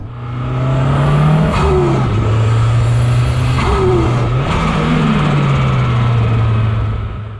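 A Toyota MR2's engine drones loudly and continuously from inside the car while driving, its pitch rising and dipping as the revs change, with a couple of brief mechanical chirps and no talking.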